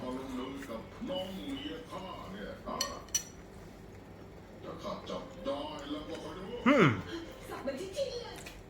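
A spoon clinks against a dish while someone eats Thai salad at a Bangkok meal, with several light scrapes and clinks scattered among background chatter and talk from a nearby voice.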